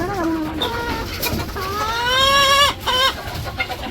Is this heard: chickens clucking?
yes